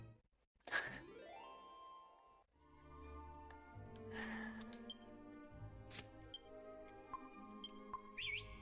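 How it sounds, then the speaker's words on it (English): Dragon Quest VIII game audio as whistling summons a liquid metal slime: a rising whistle tone, then a series of bright chiming jingles and dings over low music, fairly quiet with no talking. "Whistling to summon a liquid metal slime only for it to immediately flee."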